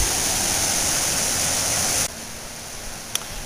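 Water pouring over a reservoir spillway in spring, a steady loud broadband rush that fills the first two seconds, then drops to a softer, more distant flow with a small click near the end.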